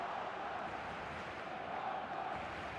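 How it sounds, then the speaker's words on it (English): A virtual stadium crowd in the eFootball game, at a Barcelona match, roars in a steady, dense wash of calling voices that holds at the same level throughout. "The crowd are calling for this to be put to bed."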